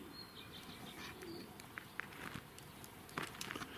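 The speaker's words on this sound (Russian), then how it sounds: "тут у меня голуби, голубятни" Pigeons at a dovecote make soft, low cooing and scattered chirps, with occasional faint wing flaps and rustles, fairly quiet against a hushed outdoor background.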